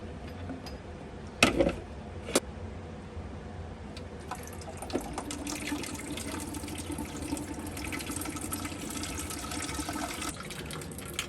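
Water running out of the cold service valve on a Navien tankless water heater, a steady close trickle and splash with a couple of sharp metallic clicks early on and no talking.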